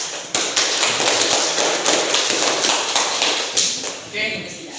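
Classroom applause after a group presentation, a dense burst of clapping from many students lasting several seconds before it thins out.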